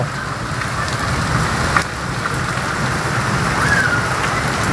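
Steady heavy rain pours down outdoors during a monsoon downpour where a family is bathing, a loud, even hiss of drops on surfaces throughout, with a faint rumble and no voices.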